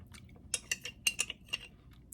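Chewing a spoonful of thick cottage cheese dessert mixed with almond milk: about six soft, wet, clicky bites in an uneven rhythm, close and quiet, with no talking.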